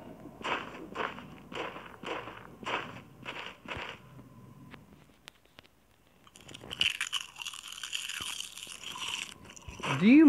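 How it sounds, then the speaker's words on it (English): Loud, wet crunching chews repeat in a steady rhythm of about six bites, followed by a burst of noisy game sound effects in the horror game Amnesia. "can you chew any louder?"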